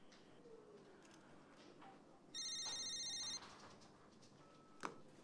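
A telephone rings once in a quiet room, a short burst of electronic bell tones lasting about a second, with a faint background hum and a brief knock afterward.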